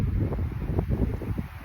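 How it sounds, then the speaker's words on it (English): Gusty wind buffets the microphone outdoors on a walk by the water, a steady low rumble with fluttering surges and no voices. "it's getting pretty windy"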